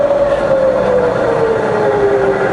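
A Bridgeport milling machine runs in reverse at low spindle speed, giving a smooth, steady, fairly quiet hum with a faint whine that slowly falls in pitch, with no one speaking.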